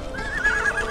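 A horse neighs close by, one sustained, wavering whinny over a low rumbling background.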